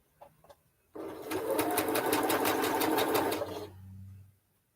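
A sewing machine stitches a 4.5-inch quilt strip in one steady, rapid run of about three seconds, close and clear, preceded by faint handling clicks and trailing off into quiet.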